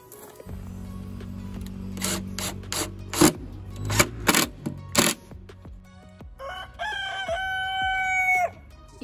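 A rooster crows loudly and close beside a chicken coop, a drawn-out call near the end that follows bursts of rasping, scraping noise.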